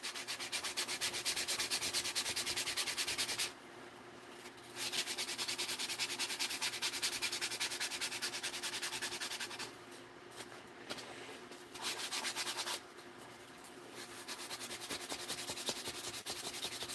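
Fine 400 grit sandpaper rubs quickly over a surface, a soft, steady scratchy hiss close to the microphone, broken by a few brief pauses between strokes.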